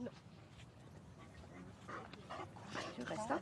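A young border collie with aggression and excessive-barking problems makes brief yips and whimpery barks, with people talking over it; close and moderately loud, clustered near the end.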